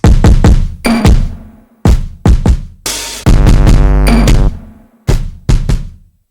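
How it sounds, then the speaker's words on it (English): Heavy, booming drum patterns for a type beat, with deep 808 bass thumps and sharp snappy hits, playing loud and close in a driving rhythm with short gaps between phrases. "Then the drum patterns that I bring in sound like this."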